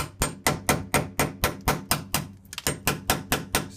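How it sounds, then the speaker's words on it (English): A small hammer taps a chisel against a vinyl window frame in a steady run of about fourteen sharp, close strikes, evenly spaced with a brief stumble near the middle. "you could use a small chisel and a small hammer."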